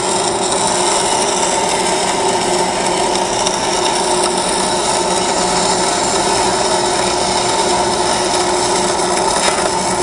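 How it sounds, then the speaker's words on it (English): Continuous, loud, steady buzzing hiss of metal being welded, unbroken for the whole stretch with no pauses and no talking. "I'm just gonna weld this"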